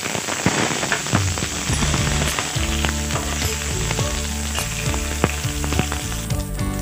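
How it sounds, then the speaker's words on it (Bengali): Moringa drumstick pieces fry in hot oil with whole mustard seeds for a sweet-sour pickle, giving a loud, steady close-up sizzle dotted with sharp crackles and pops throughout. "ডাঁটাটাকে একটু ভালো করে ভেজে নেব আমি"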